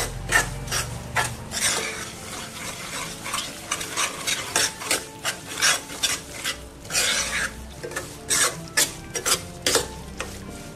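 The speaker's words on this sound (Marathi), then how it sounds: "तुपावरती छान भाजून घ्यायचा आहे हा रवा." Semolina (rava) roasting in ghee while a spoon stirs it, a steady soft sizzle with repeated scraping strokes against the pan, close and continuous with no talking.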